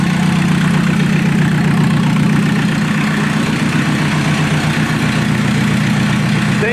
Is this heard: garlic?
no